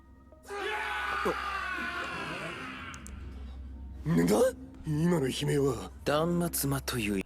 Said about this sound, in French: Des cris d'agonie.